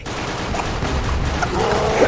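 Rapid gunfire rattles continuously in a zombie shooter game, a dense, loud, steady burst of shots with a noisy wash throughout.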